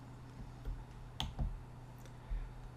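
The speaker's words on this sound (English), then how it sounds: "if I right click on here" Two or three soft, quick clicks from a computer mouse being right-clicked while setting up a virtual monitor display, heard close against a faint steady hum with no talking.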